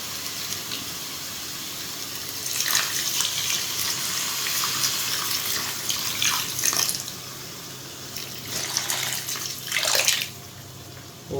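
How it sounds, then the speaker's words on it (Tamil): Water is poured into a pan of salna curry, giving a close, uneven splashing and gurgling in several surges over about eight seconds, set against a steady low background hiss. "கொஞ்சம் தண்ணி ஊற்றிக்கலாம்."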